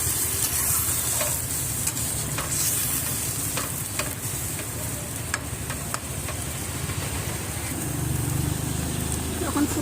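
Fish curry with spices sizzling and bubbling in a pan after water is added, a dense steady crackle punctuated by frequent sharp ticks and pops, close and continuous.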